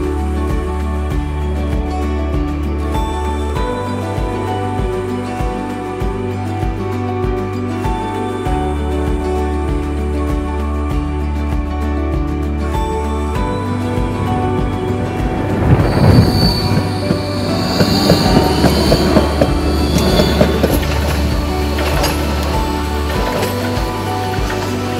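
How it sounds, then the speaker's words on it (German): A Rhein-Neckar tram runs over open country from Gotha towards Waltershausen, rumbling steadily with rhythmic wheel-beat, then metallic wheel squeal rising in the middle and fading again, close and continuous with no talk. "Nach einer kurzen Fahrt durch die Wendeschleife am Krankenhaus verlässt unsere Bahn auch schon Gotha und fährt nun"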